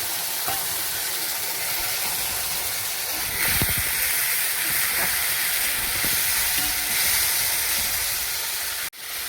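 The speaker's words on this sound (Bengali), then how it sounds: "মশলাটা ভালো করে ভাজা হয়ে গেছে, ভালো করে তেল ছেড়ে দিয়েছে" Spice masala fries in oil in a pan, giving a steady close hiss and sizzle with occasional stirring scrapes, running unbroken and alone until a brief dip near the end.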